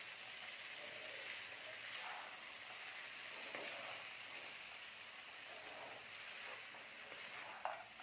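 Tomato peas idiyappam stirred in a pan on a slow flame, a faint steady sizzle with soft intermittent scrapes of the spoon and a small clink toward the end, no voices.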